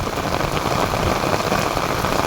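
Dense, steady hiss of rain falling on surfaces, constant and close, with no talking.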